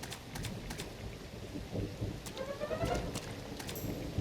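Cartoon rainstorm with steady hissing rain and a rolling rumble of thunder, loud and continuous throughout with no talk over it.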